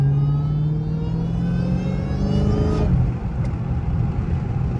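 A tuned Dodge Scat Pack drives along, its engine a deep steady drone that rises slightly before easing off near the end, heard from inside the car at moderate loudness without talking.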